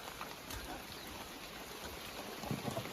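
Steady rain falls outside on a rural homestead as a dense, even hiss close by, with a few louder drips or taps near the end.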